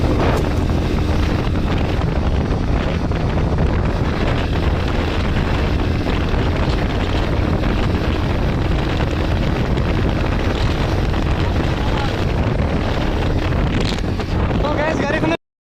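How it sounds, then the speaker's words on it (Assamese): Strong outdoor wind blasts straight into the microphone as a loud, continuous, rumbling roar that lasts the whole stretch and then cuts off abruptly. "মস্ত বতাহ, সেইকাৰণে চাউণ্ডটো বন্ধ কৰি দিছোঁ।"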